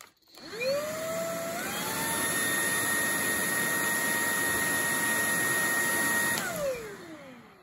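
A Redroad V17 cordless vacuum cleaner spins up with a rising whine, runs at a steady high-pitched whirring hum for several seconds, then winds down, close by and alone.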